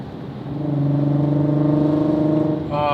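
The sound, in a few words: VW Golf MK5 R32 VR6 engine downshift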